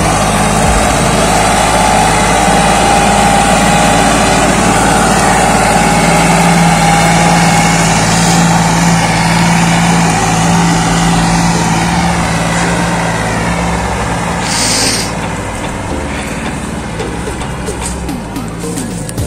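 Massey Ferguson 9500 tractor pulling a loaded trolley, its diesel engine droning steadily and loudly up close for the whole stretch, a deep continuous rumble with a faint whine on top.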